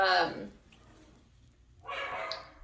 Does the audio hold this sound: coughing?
no